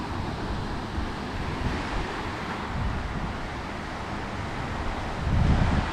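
Waves wash onto a Lake Superior freshwater beach, a steady rushing surf mixed with wind buffeting the microphone, swelling louder near the end, with no voices.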